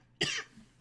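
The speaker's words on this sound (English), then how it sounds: "I was just coughing a bit" A single short cough, close and fairly quiet, with no talking around it.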